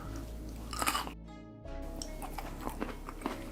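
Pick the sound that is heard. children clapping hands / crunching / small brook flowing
crunching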